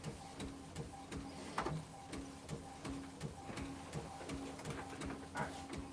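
A printer runs at a desk in a maker's workshop, giving steady mechanical ticking and clicking in a regular rhythm over a low hum, faint and close with no talk.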